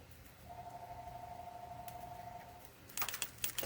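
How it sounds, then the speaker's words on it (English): A phone rings in the background of a silver-themed holiday craft session: one steady electronic tone for about two seconds, faint under room noise, followed by a short burst of clattering. "Excuse my phone ringing in the background."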